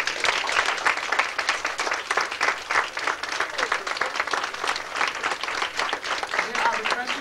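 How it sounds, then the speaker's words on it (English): Audience applause for the writers at a cold, rainy-night 1995 poetry event, a steady, dense crowd clapping that holds evenly throughout without pause. "can y'all give my writers one big applause?"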